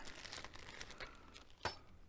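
A plastic bag that came packed with a LEX LXTP 330 thickness planer crinkles softly as it is handled and opened up close, ending in a sharper rustle.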